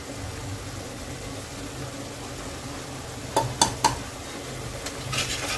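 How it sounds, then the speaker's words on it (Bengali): Yogurt and ground chili, turmeric, coriander and cumin being stirred together in a pan for bottle gourd kofta curry, a soft steady scraping hum with a few sharp clinks of the spoon near the end. "দিয়ে একসাথে ভালোভাবে মিশিয়ে নিচ্ছি।"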